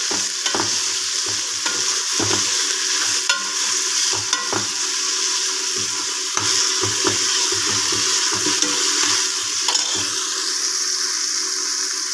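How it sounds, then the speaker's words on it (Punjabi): Cumin tempering fried in a pan for black chickpeas, a dense continuous sizzle under irregular scraping and clinking stirs, close-up, with no talking. "ਆਪਣਾ ਤੜਕਾ ਵਾਲਾ ਭੁੱਜ ਕਰ ਲਿਆ"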